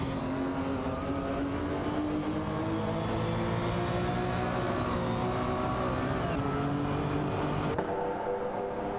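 Race cars in a racing video game, including a BMW NASCAR C2, roar continuously at steady high revs, with layered engine tones shifting pitch as they battle closely, loud and unbroken throughout.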